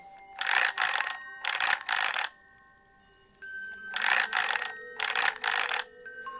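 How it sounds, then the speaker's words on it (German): A bright electronic telephone ring sounds in four short double bursts, with pauses between pairs, clear and close with no talking. "Da läutet plötzlich das Telefon."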